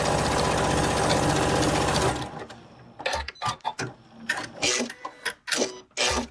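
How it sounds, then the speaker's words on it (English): Janome Continental M6 sewing machine stitching a wide zigzag, a fast, loud mechanical whir for about two seconds that stops abruptly, followed by scattered handling clicks and knocks. "I'll go ahead and just stitch with that wide zigzag"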